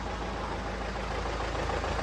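Mercedes E250 engine with an oil fault, knocking as it is revved; a steady, loud broadband mechanical drone fills the whole short stretch with no speech over it.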